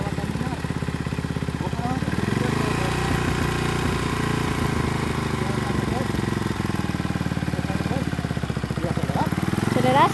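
A motorcycle engine runs steadily through a beginner's riding lesson, its pulsing mid-pitched drone holding close and constant and rising slightly near the end, with people talking over it.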